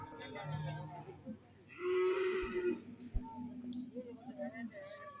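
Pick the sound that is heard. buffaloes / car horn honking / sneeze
buffaloes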